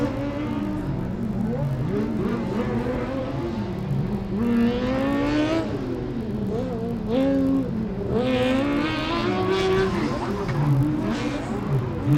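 A Formula Student race car from UAS Graz on an autocross lap, its high-revving engine rising and falling sharply through gear changes and corners, loud and close throughout, with a commentator talking over it.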